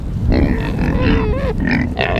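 Pigs grunting close by, a run of low snorting grunts over about two seconds, loud and continuous.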